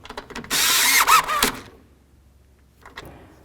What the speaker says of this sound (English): let's go ahead and snug them up.